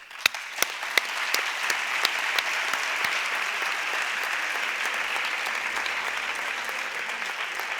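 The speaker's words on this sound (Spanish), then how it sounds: "Les ofrecemos este merecido abrazo a manera de aplauso" Audience applause for a speaker being welcomed at a conference in Rota, opening with sharp separate claps that build into steady, even, sustained clapping from a large crowd, with no talking over it.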